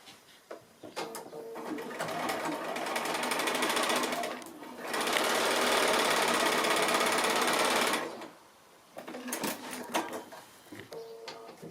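A sewing machine stitches corner seams on a Rolling Stone quilt block, running in a long steady whir, pausing briefly, then a second loud sustained run, with light handling clicks around it and no talking.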